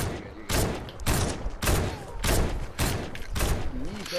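Gunfire in a Fortnite-style shooter aimed at a built staircase, six or seven loud sharp shots in an uneven rhythm about half a second apart, with a voice talking faintly underneath.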